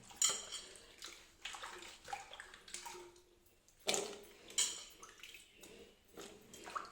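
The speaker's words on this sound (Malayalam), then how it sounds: "നല്ല 2-3 പ്രാവശ്യം കഴുകിയിട്ട് ഇങ്ങനെ" Chopped vegetable pieces, including pumpkin, ash gourd and potato, are washed in water in a vessel, with splashing, dripping and clinking bursts between quieter pauses, close by and with no talking.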